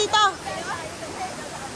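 Strong stream current rushes near a waterfall on a trek, a steady broadband roar that fills the whole clip, with a person's voice briefly over it at the start.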